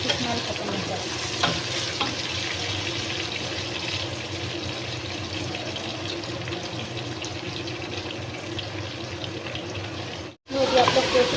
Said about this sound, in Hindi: हम लोग हल्की आंच पे 10 से 15 मिनट के लिए गोश्त की बुनाई करेंगे